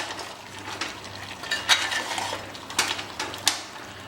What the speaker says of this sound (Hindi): अब इसे हम थोड़ा मिक्स कर लेंगे बढ़िया।